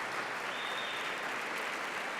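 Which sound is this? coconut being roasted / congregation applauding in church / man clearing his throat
congregation applauding in church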